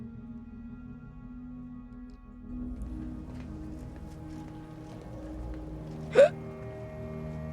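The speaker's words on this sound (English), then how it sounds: "I had the hiccups now." A single sharp hiccup sounds once near the end, brief and fairly loud over a low game-ambience bed in The Outer Worlds 2.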